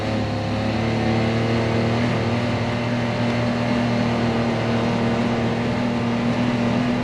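UTV fitted with sound-deadening mats driving in high gear, a steady loud engine drone with a constant low hum and even road rumble from inside the cab.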